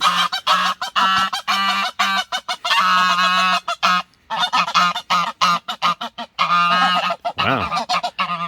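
A nesting goose honks loudly and repeatedly at close range, in rapid bursts of harsh calls with short breaks between them and no talk.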